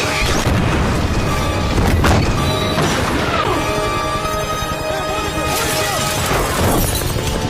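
A cannon fires at a helicopter with a loud, heavy boom amid a dense, chaotic mix of crashes, whooshes and rumbling, with further impacts and a dramatic roar continuing throughout.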